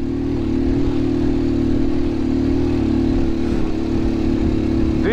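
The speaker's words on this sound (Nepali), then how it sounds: "यो बाइकले यो उकालोमा चाहिँ कतिको पावर दिन्छ पर्फर्मेन्स दिन्छ" A motorcycle climbs a steep uphill road in second gear carrying two riders. The engine gives a loud, close, steady drone that holds firm under load throughout, with no voices.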